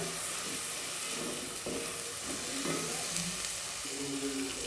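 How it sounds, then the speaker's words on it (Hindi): Spices fry and get stirred in a pot for a mixed vegetable pulao, giving a soft, continuous sizzle with occasional faint stirring scrapes, quiet and without speech. "स्पाइसेस शामिल करने के बाद थोड़ा सा आपने इसको भूनना है, यानी अच्छे से मिक्स करना है"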